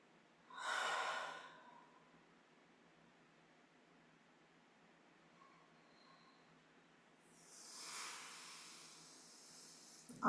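Two slow, deep breaths during a restorative stretching session: a long airy inhale or exhale near the start and another toward the end, with quiet stillness between, close and alone.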